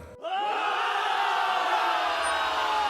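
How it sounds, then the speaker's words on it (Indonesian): A dense crowd cheers noisily around an arena contest, a sustained wall of shouting and yelling voices that swells in sharply and keeps going at a steady loud level. "Sorak-sorai kembali terdengar gaduh"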